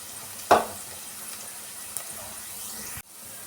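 Vegetables frying in a pan for a ridge gourd dish, with a steady close sizzle and hiss, a sharp clack near the start and an abrupt cut near the end.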